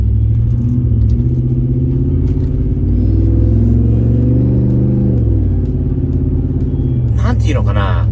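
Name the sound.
Ford Raptor truck engine accelerating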